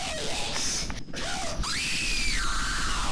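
A child's piercing scream in Roblox Jailbreak, two drawn-out shrieks with a short break between, the second held long before dipping in pitch, loud and close over light game noise.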